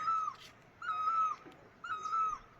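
A single bird calls in the evening, repeating a clear whistled note three times at an even pace, moderately near and alone with no talk.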